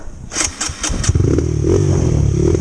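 A trail motorcycle on loose gravel starts up with a few sharp clattering bursts, then settles into a loud, close, steady engine drone with slight revving.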